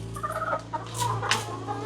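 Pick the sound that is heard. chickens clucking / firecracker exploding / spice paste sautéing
chickens clucking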